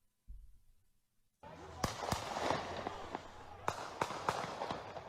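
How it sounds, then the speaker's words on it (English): Sharp gunshots crack in a quick series of loud bursts with short pauses between them, fired nearby, over a dense background noise. "Now, you hear those gunshots? That's not that rifle. That's somebody else shooting."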